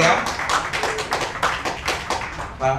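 Warm applause for a speaker being introduced at an Indonesian forum, a dense run of many hands clapping under a voice talking over it.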